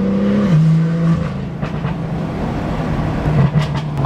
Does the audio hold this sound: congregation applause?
no